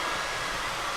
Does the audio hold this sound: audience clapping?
no